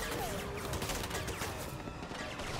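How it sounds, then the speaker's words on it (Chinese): An explosion in the video game Slitterhead, heard as a dense burst of crackling blasts and crashes that rattles on for a couple of seconds amid game sound effects. "跟住睇佢爆炸啦"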